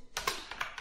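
A short burst of a few crisp keystrokes on a computer keyboard while entering a terminal command for a Raspberry Pi, close and clear, with no talking.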